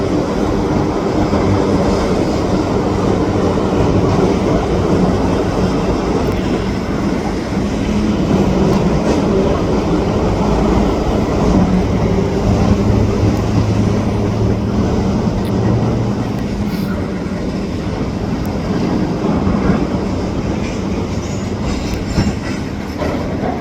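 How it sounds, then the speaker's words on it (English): A loaded freight train passes on a foggy morning in New Westminster near the SRY Trapp yard, making a loud, steady rumble with continuous wheel clatter throughout and no break. "I think that'll be the end of the train, I guess."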